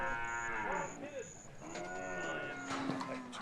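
Cattle from a sale herd of about 2,000 head in the remote Kimberley region moo repeatedly, several long overlapping calls near and farther off, with a voice speaking over part of it.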